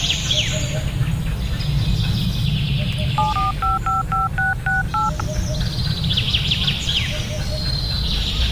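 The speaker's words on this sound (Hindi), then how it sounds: "तब तो सीआईडी के लिए फोन कर" A mobile phone dials a number in a jungle: a quick run of about seven clear, evenly spaced keypad beeps, set against steady outdoor insect and bird chatter.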